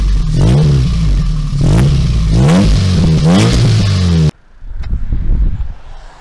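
A loud, home-built Toyota MR2 mk1 engine revs hard in several rising bursts up close, then drops abruptly to a rough, quieter idle.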